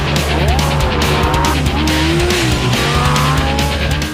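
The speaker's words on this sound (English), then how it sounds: "Lamborghini Gallardo. It's one howling supercar." Lamborghini Gallardo LP550-2 supercar driven hard, its engine roaring loudly with rising and falling revs while the tires squeal and skid through the turns.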